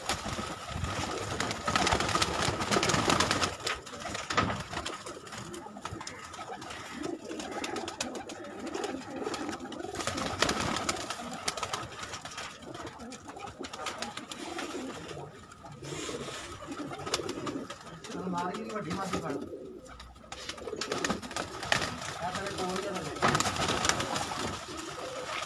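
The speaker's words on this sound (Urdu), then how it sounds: "بہت ہی لاجواب کبوتر ہیں جو آپ دوستوں کو دکھائے جا رہے ہیں" Pigeons coo steadily on a Karachi rooftop loft, a continuous low burbling chorus that runs throughout with some wing flutters and ambient outdoor noise, no talking.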